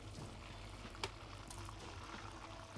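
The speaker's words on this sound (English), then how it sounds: "while our Gator's over here frying" Alligator meat deep frying in hot oil, a steady close bubbling sizzle with a brief sharp pop near the middle, no talking.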